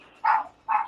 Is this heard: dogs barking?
yes